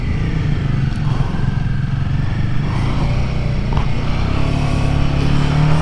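A Royal Enfield Himalayan 450 motorcycle rides through sub-zero Himalayan mountain terrain, its engine droning steadily and loudly throughout with wind and road noise, no voices over it.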